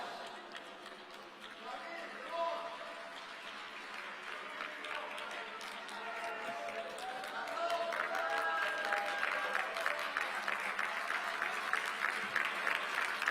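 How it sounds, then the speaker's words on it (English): Delegates applauding at a UN Tourism General Assembly session, a broad crowd clap that builds and grows louder midway, with murmuring voices and chatter mixed beneath the sustained clapping. "a warm round of applause to everyone, please"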